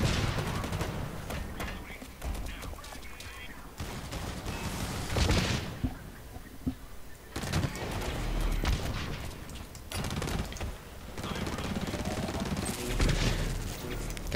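Revolver fire in Blacklight Retribution comes as repeated sharp shots amid other gunfire and mechanical clatter, spread across a busy stretch of battle.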